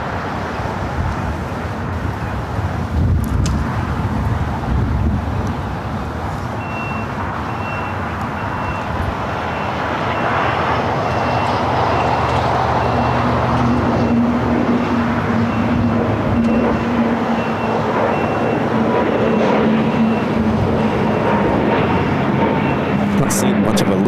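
An Airbus A320neo airliner on runway 25 right at Los Angeles International Airport gives a continuous, fairly distant jet roar that swells partway through, over a steady rumble of background traffic.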